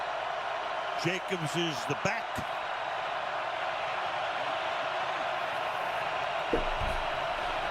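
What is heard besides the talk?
stadium crowd at full volume, from a football video game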